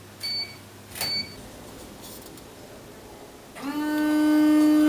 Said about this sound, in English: Free vending machine.